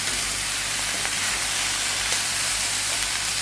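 Garlic, broccoli and pepper frying in a pan, giving off a loud continuous sizzle and hiss with occasional small pops, close and steady throughout.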